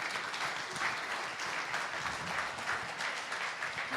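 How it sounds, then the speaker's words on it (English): A steady, dense round of audience applause fills a conference room at an AACC Connect & Engage event, holding even and full for several seconds without talk. "If you can give them a round of applause,"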